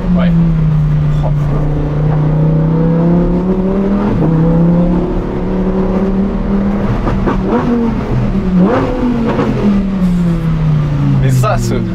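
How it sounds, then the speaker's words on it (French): Lamborghini Huracan STO V10 accelerating from the cabin, a loud, steady engine howl that rises and falls through gear changes, with people talking over it. "Mais ça, ce V10, il vaut tout l'or du monde."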